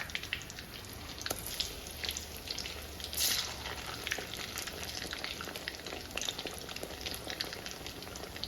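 Bread fries Kerala style in a small pan, giving a continuous close sizzle with bubbling oil and sharp spitting crackles, one brief louder burst partway through.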